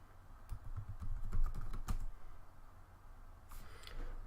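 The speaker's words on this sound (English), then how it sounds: "I will type in my password" A password is typed on a computer keyboard during Windows 10 setup, as a quick run of close, crisp key clicks followed by a pause and a few more taps, with no talking.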